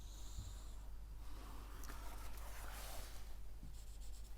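Hand-writing math working on paper with pen or pencil, soft scratchy strokes and scribbles under a steady low hum, faint and close.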